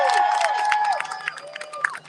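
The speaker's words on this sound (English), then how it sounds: "give yourself a round of applause for showing up today" An outdoor crowd in Albany cheering and whooping, with a few clapping bursts and shouts carrying over a lively, sustained din.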